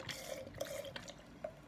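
White distilled vinegar poured into a container, a brief, quiet watery trickle and splash with a few drip-like blips, heard alone without talk.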